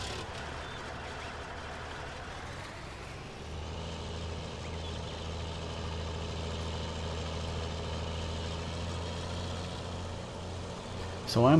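Red tractor engine in the video game Farming Simulator 19 idles with a steady low rumble, joined by a heavier drone partway through, continuous and fairly quiet.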